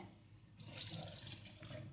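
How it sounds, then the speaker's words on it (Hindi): Cooled boiled water is poured into a container while making homemade pineapple white wine, a brief soft splashing stream that starts abruptly and runs on steadily, faint and close, with no talking. "इसमें हम थोड़ा सा पानी डालेंगे। हमने बॉयल वाटर ठंडा करके रखा है"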